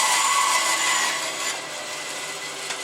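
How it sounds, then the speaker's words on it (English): A belt sander working a wooden block, giving a bright, steady abrasive rasp that is loud at first and then eases slightly as the pass continues, with no talk. "crank up my belt sander"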